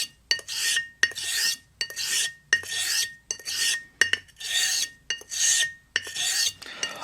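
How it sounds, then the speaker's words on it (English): A honing stone grinds the bevel of a Portland Razor Company Siren quarter-hollow straight razor in rhythmic strokes, about eight rasping passes with short pauses between them, close and clear with no talk. "I just took the stone to the 2-meter form to resurface its geometry."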